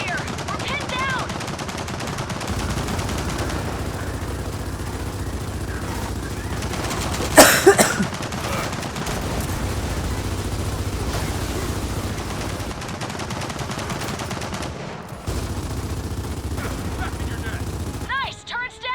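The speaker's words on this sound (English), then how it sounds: "We've got a turret up here. We're pinned down." Sustained automatic gunfire from a mounted machine gun turret in the video game Gears of War 4, steady and loud for most of the stretch, mixed with other battle noise and a brief louder burst midway.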